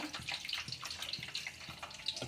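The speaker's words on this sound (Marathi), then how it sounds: "डाळ चांगली धुवून घ्यायची तुरीची डाळ" Toor dal lentils get washed under running water, a steady close splashing rush with faint sloshing throughout.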